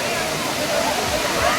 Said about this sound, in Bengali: ওই মাথা থেকে জল নামছে।